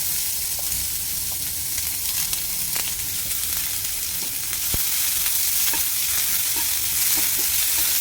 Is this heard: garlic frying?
yes